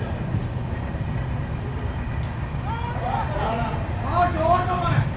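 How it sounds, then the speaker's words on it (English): A train rolls past near a cricket ground, a steady low rumble throughout with a commentator talking over it. "the train swiftly moves on from us"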